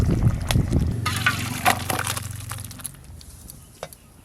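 Sour fish-bone broth with mustard paste poured from a pot, a sloshing liquid pour with a low gurgling stream that thins to faint trickles and drips, close by.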